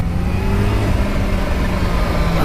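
A supercharged Kawasaki H2 motorcycle on the open road, its engine droning loud and steady at high revs with a rising whine, mixed with rushing wind, and no talk over it.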